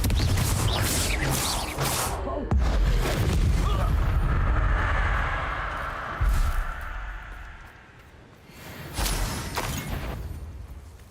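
A blasting-curse spell detonates as a loud, rumbling explosion with whooshing debris, followed by lingering roar and a second surge, with voices shouting in the scene.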